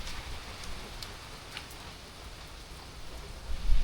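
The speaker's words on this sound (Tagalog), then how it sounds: "Yan, lakas ng ulan." Heavy rain falls steadily at a farm in Tagaytay, a dense continuous hiss with scattered sharper drop impacts and a louder rumbling burst near the end.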